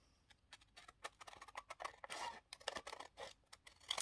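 Scissors cutting paper to length for a handmade mini journal, a close, quiet run of crisp snips and rustles in an uneven rhythm, with no talking.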